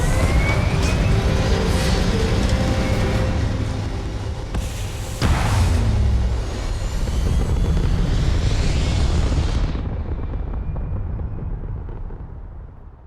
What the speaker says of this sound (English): Engines firing. Here we go.